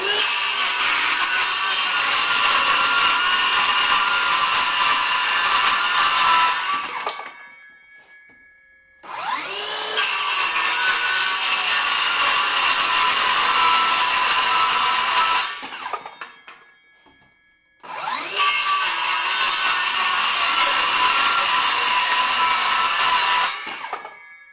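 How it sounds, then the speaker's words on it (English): A Greenworks 24V brushless 7 1/4 inch circular saw rips through thin plywood in three loud, sustained cuts. Each cut has a high whine, and each spins down to near silence before the next begins. "I'll go ahead and cut some plywood"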